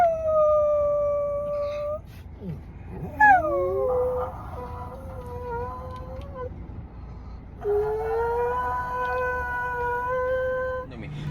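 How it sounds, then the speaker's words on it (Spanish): A dog howls like a wolf in long, wavering, drawn-out tones: several sustained howls with rising and falling pitch, close and loud, separated by short pauses, with no talk over them. "pero parece una loba, o sea, una loba de verdad, no es que ladrar, no, aullar"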